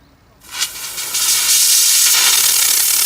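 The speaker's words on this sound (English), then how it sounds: "steam has coming out" An LPG-fired steam car wash machine's steam gun bursts into a loud, sustained hiss that builds quickly and then holds steady and broadband, with no talking over it.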